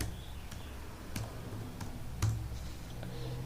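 Computer keyboard keys click in separate sharp taps at an uneven pace as commands are typed, close and fairly quiet over a low background hum.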